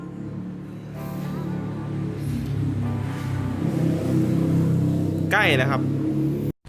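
A motor vehicle roars past close by, a loud engine rumble running steadily beneath someone talking.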